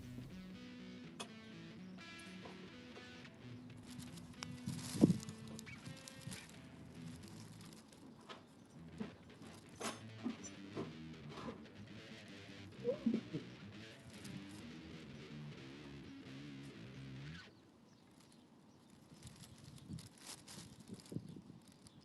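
Birds coo and call outdoors, probably pigeons or doves, with rustling and scattered knocks and handling noises at moderate level and no talk.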